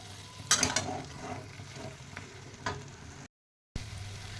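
Soybean chunks sautéing in a pan on low gas, with a soft continuous sizzle broken by a few louder stirring scrapes and clatters, close and without talk before a brief silent gap.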